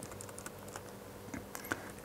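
Keys clack on a computer keyboard as a web address is typed, a quick irregular run of close, light taps with no voices.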